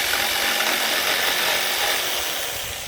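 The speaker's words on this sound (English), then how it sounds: "for today, I'm going to use this jigsaw" A jigsaw cuts through a piece of wood, giving a loud, steady, buzzing rasp close by that holds for the whole stretch and eases slightly at the end.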